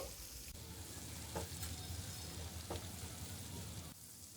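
Butter sizzles and crackles steadily in a hot pan while making a dal tadka, a continuous frying hiss with a few faint clinks.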